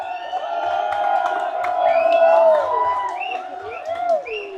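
A protest crowd cheers and whoops loudly, with rising and falling shouted voices layered over a continuous roar of many people.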